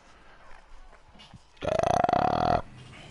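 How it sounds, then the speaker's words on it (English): A single loud, throaty belch bursts out for about a second during a live PS4 gaming broadcast, standing alone against quiet background murmur. "Belch."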